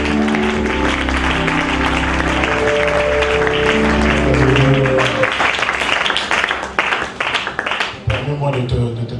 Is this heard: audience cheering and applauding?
yes